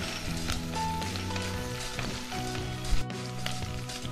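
Chana dal and green chillies fry in hot oil for poori kizhangu, making a continuous light sizzle with faint crackles under background music and a brief knock near the end.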